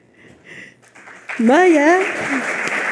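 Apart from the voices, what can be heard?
applause at award ceremony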